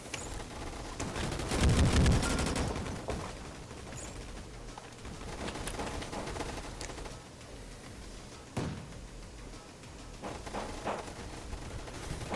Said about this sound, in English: Also, there's this grenade launcher.